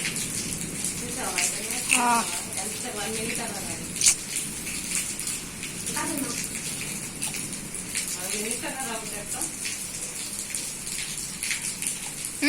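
Steady rain patters and drips throughout, with a few louder drops and faint voices murmuring underneath.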